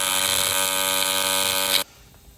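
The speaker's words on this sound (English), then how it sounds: "Drill a hole, put that down there." A power drill runs steadily at high speed while boring a hole, close and fairly loud, then stops abruptly, leaving only quiet room noise.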